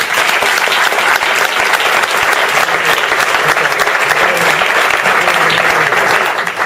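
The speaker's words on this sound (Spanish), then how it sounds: "Vamos a recibirlo con un caluroso aplauso." An audience at a book presentation gives a warm welcoming round of applause, with dense, steady clapping that fills the whole stretch at an even, fairly loud level.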